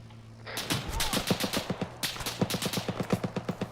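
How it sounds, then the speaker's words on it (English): Heavy automatic cannon fire from a BTR armored vehicle in a military shooter game, a loud rapid string of closely spaced booming shots that starts abruptly and continues without pause, with faint background hum. "Fucking taking fire from BTR"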